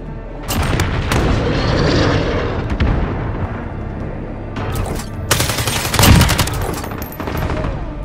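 Gunfire in a Modern Warfare match: loud bursts of automatic shots and heavy booms in irregular clusters, with a dense barrage early, a lull, then a further volley and a close blast.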